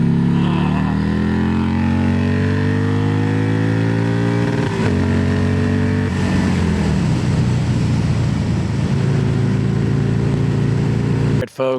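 A Hammer 1275 Sportster motorcycle engine drones loudly up close while riding, its pitch climbing steadily before dropping sharply at a downshift and then pulling again, with wind rush throughout.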